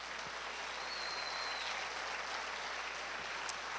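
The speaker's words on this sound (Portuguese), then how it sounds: "Vamos dar uma salva de palmas para o Senhor" A church congregation applauding during a Sunday evening worship service, a steady, even wash of clapping that holds at a moderate level throughout, heard from somewhat back in the hall.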